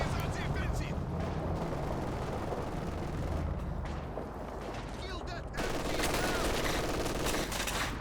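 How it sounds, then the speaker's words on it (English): Incendiary artillery barrage in Company of Heroes 2 rumbles as a dense fusillade of booming shell impacts and crackling gunfire, loud and continuous, dipping briefly before surging back, under faint game noise. "Incendiary artillery to deter the capture."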